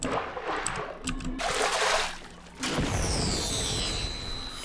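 Water splashes and sloshes in a Portal 2 test chamber level, with a soft splashing burst, a brief dip, then a steady rushing wash of water that carries on to the end.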